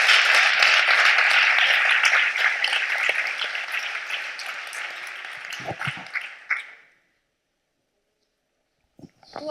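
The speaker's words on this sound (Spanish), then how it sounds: "Un aplauso que se ha traído el arpa" Audience applause at a book presentation for a novel about empty houses on a peninsula, a dense, steady roar of many hands clapping that tapers off and stops, followed by silence and a few brief soft knocks.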